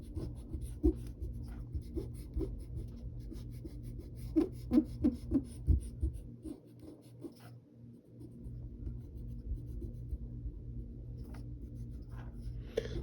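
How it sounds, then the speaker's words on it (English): A pencil drawing has its construction lines rubbed out, giving close scratchy friction strokes in uneven bursts over a steady low hum, with a quieter stretch partway through. "we can erase some of the construction lines that we put"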